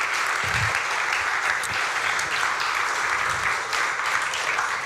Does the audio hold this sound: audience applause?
yes